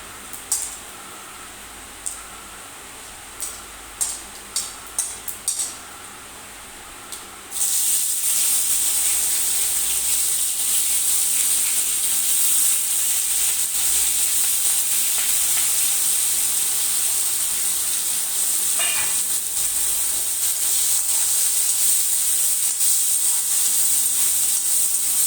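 Chopped onion hits hot oil with cumin seeds and a loud, steady sizzling hiss takes over, following some quiet clinks and taps beforehand, then it keeps frying evenly up close.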